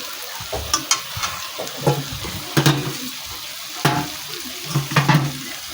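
Fried potatoes are added to a bubbling fish curry in a pan and stirred, with a wet simmering sizzle and several clunky spoon scrapes and knocks, close by and with no voices.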